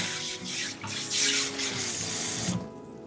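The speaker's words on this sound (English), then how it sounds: "So I'm just going to rinse the pan." Tap water runs into a sink over a cast iron skillet as it is rinsed, a loud, continuous splashing rush with some rubbing, cutting off just before the end.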